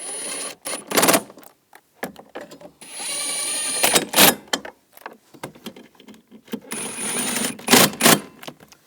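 A power tool tightens bolts on a 2010-2017 Chevrolet Equinox panel during heater core replacement, running in several short loud whirring bursts separated by brief pauses, close by, with no speech.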